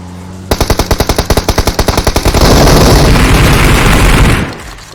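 Gunfire in the PUBG Mobile video game: a close, loud, rapid automatic burst of about fifteen evenly spaced shots, then a sustained roaring volley of fire that cuts off abruptly near the end, with no talking.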